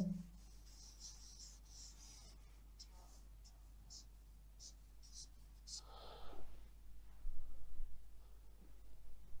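Marker strokes on a board as a word is written, a series of short scratchy squeaks in quick bursts, fairly close, with faint breathing and a quiet room hum, ending in a slightly louder rub.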